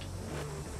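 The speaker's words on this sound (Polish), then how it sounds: "Słyszę ten silnik, to jest V12." A powerful V12 car engine in Forza Horizon 4 roars and revs loudly, close up, with a brief shift in pitch partway through.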